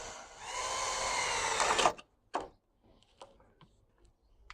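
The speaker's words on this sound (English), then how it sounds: "take the drill, pop a little hole through the brace on the back here" A power drill boring a small hole through a wooden brace on the back of a garden fixture, a steady whirring buzz for about two seconds that stops abruptly, followed by a short second burst and a few light knocks and handling sounds, close by.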